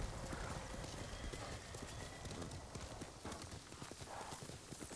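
Horse hooves galloping in the video game Ghost of Tsushima, a steady rapid clip-clop rhythm running throughout with a brief whinny and faint background ambience.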